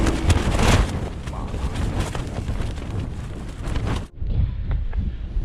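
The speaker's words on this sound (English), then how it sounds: "Ooh, it's windy." Strong wind buffeting the microphone on the open Yorkshire moors near Blakey Ridge, a loud continuous roar with gusts, briefly cut off near the end before surging back.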